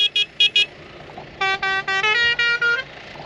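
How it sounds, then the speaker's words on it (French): Car horn honking in a playful pattern: three quick short toots, a pause, then a run of longer blasts close by and loud against faint background noise. "Et on s'amuse avec le klaxon"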